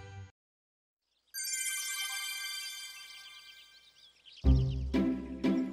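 A cartoon mail notification ringtone chimes as a bright, sustained melodic jingle for about three seconds after a short pause, fading slightly before a burst of louder sound at the end.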